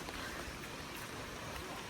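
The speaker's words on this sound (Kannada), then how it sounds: "ಮಳೆ ಅಂತೂ ಉಯ್ತಾ ಇದೆ ಹಂಗೆ." Rain pouring outdoors near a waterfall, a dense and constant patter and wash of water that stays even and faint throughout, with no talking.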